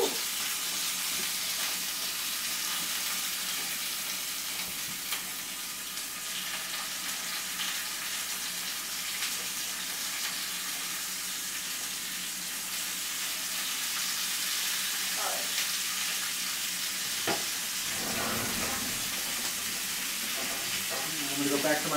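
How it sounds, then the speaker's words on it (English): Chicken pieces frying in a skillet, a loud continuous hiss and crackle of hot oil close by, with brief clatters and a voice speaking near the end. "I'm going to put some of these bigger pieces in the skillet first"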